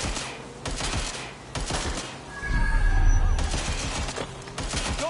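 Gunfire in the video game Watch Dogs Legion: bursts of rapid shots crackle in clusters with a heavier boom midway, loud and close, mixed with game noise and voices.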